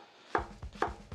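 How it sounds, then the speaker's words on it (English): A knife slices half a yellow onion thinly on a cutting board, giving four crisp, evenly spaced cuts, close and clear with nothing else audible. "I'm gonna do some thin sliced onions."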